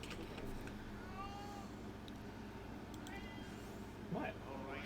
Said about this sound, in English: Hey, I'm petting you. Why are you going meow?